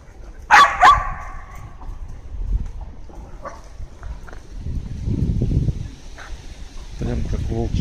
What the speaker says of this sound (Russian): прям как волки, большие собачки.